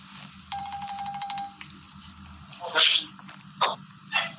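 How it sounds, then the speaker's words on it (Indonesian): A telephone rings with a brief, rapid electronic trill as a caller dials in to a live Islamic talk program, followed by a few sharp, breathy bursts over low background hum. "ada telepon, silakan"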